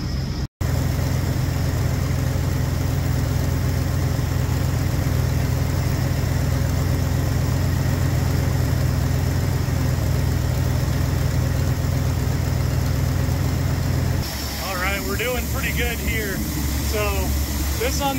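A Ford 390 FE V8 idles steadily in a classic car, a loud, even low rumble that runs throughout, with a shift in tone near the end as a person talks.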